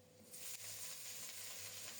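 Cauliflower pieces frying in oil in a wok alongside potatoes, a sudden rising hiss as the pieces go in, then a steady, close crackling sizzle that carries on without pause.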